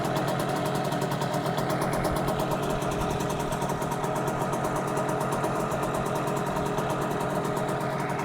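A HANGKAI 6.0 outboard motor idles cold, its rapid, even mechanical chug steady and close throughout, with no voices.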